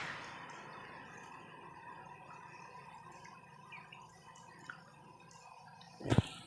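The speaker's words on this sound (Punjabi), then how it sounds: "ਸਵੇਰ ਦੀ ਮੀਂਹ ਪਈ ਜਾਂਦਾ ਹਜੇ ਤੱਕ ਪਈ ਜਾਂਦਾ" Rainwater drips and patters softly in a quiet setting, with scattered light drops and a louder splash near the end.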